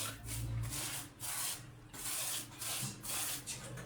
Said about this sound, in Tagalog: Ayos mo yung pagliha.